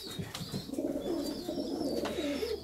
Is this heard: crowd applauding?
no